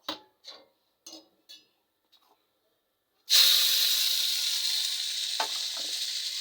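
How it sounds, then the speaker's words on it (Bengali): Leafy greens (buddhi shaak) dropped into hot white oil in a kadai burst into a loud, steady sizzle and hiss that holds to the end, after a few soft kitchen clatters and a silent pause; faint pops near the close. "সাদা তেল দিয়েই ভাজছি এটা"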